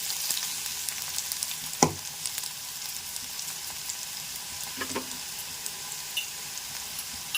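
Amaranth stems fry in oil in a pan, giving a steady soft sizzle with a couple of sharper clinks and stirs; no one speaks.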